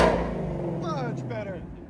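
A Ford Mustang V8 with its exhaust valves open and an X-pipe revs up, the engine tone sweeping upward, close and fairly loud, with a voice briefly audible at the start.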